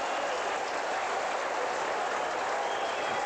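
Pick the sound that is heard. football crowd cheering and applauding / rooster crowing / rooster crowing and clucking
football crowd cheering and applauding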